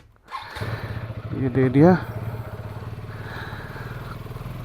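A KTM ADV 250cc motorcycle engine idles steadily nearby with a low, even rumble, while someone speaks briefly over it.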